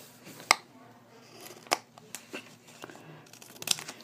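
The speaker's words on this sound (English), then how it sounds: "Then you just carefully cut off the top" Scissors trim the top off a plastic Pokémon card sleeve in a few sharp, close snips spread out over the moment, with faint crinkling of plastic between cuts.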